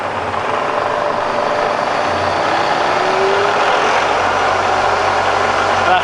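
A Bridgeport Vari-speed milling machine runs in reverse at 500 RPM with a steady, fairly loud, even hum and broadband whir that holds constant throughout.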